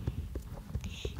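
Horse hooves clip-clop in a quick, uneven rhythm on a ride, heard close and somewhat muffled among rustling and wind noise, with soft voices in the background.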